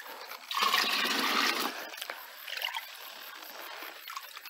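Liquid fertilizer made from food waste pours from a watering can onto a garlic bed, a close splashing gush that swells for about a second, then thins to a softer trickle.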